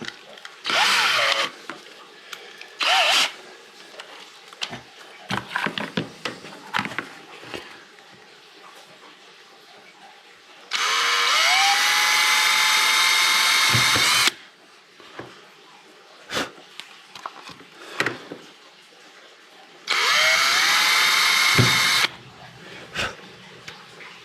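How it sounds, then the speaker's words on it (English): A small bit drills through clamped Kydex in two sustained, loud whining runs, each several seconds long. Between them come scattered handling clicks, knocks and rustles from the workbench. "Always want to kind of clamp this together so that your hole goes through nice and straight. And I start with a real small bit."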